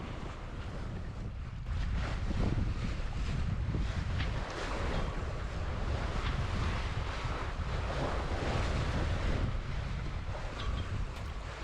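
Steady wind buffeting and rushing waves aboard a sailboat heading into a consistent Caribbean breeze, the broadband wash loud and close throughout with no talking.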